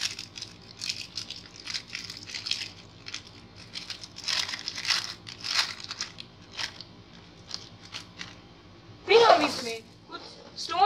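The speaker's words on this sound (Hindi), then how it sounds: "हमें सबसे पहले एक रैपर को ऊपर से काट कर उसे फोल्ड करना होगा" An empty plastic food wrapper crinkles and crunches as it is cut and folded, with close, uneven rustling bursts and a louder crumple near the end. A person talks throughout.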